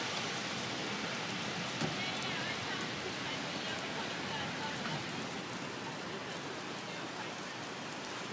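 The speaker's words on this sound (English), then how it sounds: "This isn't hail, this is all rain." Heavy rain pours steadily during a thunderstorm in New York City, a dense continuous hiss of drops hitting surfaces with no break throughout.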